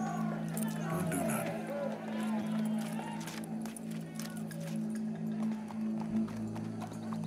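Steady clip-clop of a horse's hooves at a walking pace in Red Dead Redemption 2, with a low droning hum and faint crowd murmur behind it.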